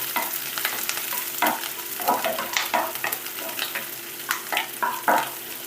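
Onions frying in a pan, a continuous close sizzle broken by frequent scraping stirring strokes in an irregular rhythm, no talk.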